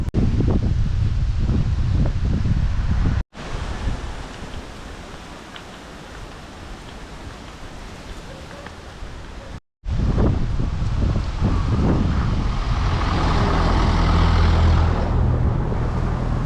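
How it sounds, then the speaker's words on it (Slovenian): Strong wind blows on a lagoon island, Maupiti, with gusts up to 30 knots: a loud, continuous roar with rumbling buffeting against the microphone, easing in the middle stretch before surging again. "Danes kar piha"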